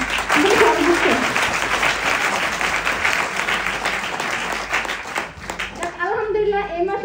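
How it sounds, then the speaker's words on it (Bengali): Loud, sustained audience clapping at a gathering held in honor of a teacher, a dense even patter filling about six seconds before fading out, with a few voices speaking briefly as it ends. "আমি আমার স্যারের জন্য সজোর একটা করতালি যাচ্ছি সবার"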